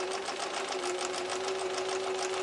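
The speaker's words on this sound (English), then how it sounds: "I'm just going to carry on stitching my segments together, locking in the seam allowances as I go" A sewing machine steadily stitches quilt fabric segments together with a quarter-inch seam, a close, even, rapid mechanical hum with a constant pitch throughout.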